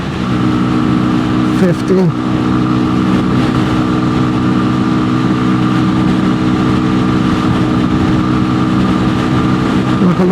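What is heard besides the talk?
Keeway RKV125 motorcycle engine accelerating through gears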